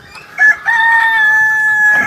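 Desi hens cluck on an egg farm while a rooster lets out a drawn-out crow close by, with scattered clucks running under it.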